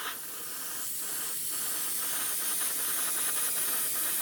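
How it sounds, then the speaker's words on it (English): Tamiya light grey spray paint hisses steadily onto the underside of an Airfix Hawker Tempest scale model, a close and continuous spray that holds even and slightly grows, with no talking. "I'm going to spray some Tamiya paint now, light grey first."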